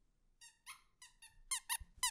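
A squeaking toy sheep in a horror map video game gives a run of short, high, bright squeaks in quick bursts, close and fairly loud, with no talking over it.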